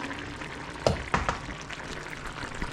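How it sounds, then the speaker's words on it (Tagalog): Sliced bitter melon (ampalaya) drops into a hot pan and sizzles, a soft frying hiss with a couple of clattering drops and stirs up close. "ilalagay na natin ang ating ampalaya"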